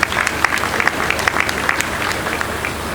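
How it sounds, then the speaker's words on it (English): A conference audience at a take-over day panel event applauds, with steady, dense, loud clapping and a light crowd murmur underneath for the whole stretch. "Ladies and gentlemen, a round of applause for Ebere Masoje."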